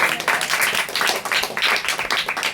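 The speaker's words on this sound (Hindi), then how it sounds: "ताली बजाओ ना।" An audience at a fasting prayer gathering claps steadily, loud and dense, in close repeated bursts that fill the whole moment.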